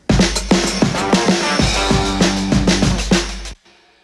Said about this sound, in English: Took a pair of guitars, doubled them. That sounds like this.